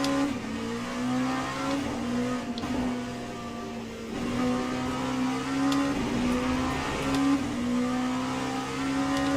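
Multiclass race car engines, including a Porsche, at Spa in Le Mans Ultimate, a steady high-revving engine note that rises and falls through gear changes, loud and close with other cars faintly audible.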